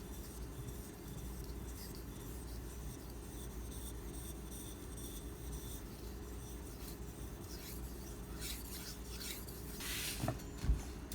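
A steel knife edge rubs steadily back and forth across a Japanese natural whetstone, giving a continuous close, gritty rasping texture, with a few sharper scrapes near the end.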